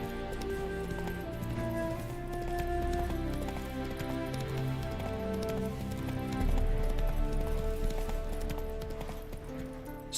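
Roach, a horse in The Witcher 3, gallops along with a steady run of clip-clop hoofbeats over tonal game music that stays present throughout.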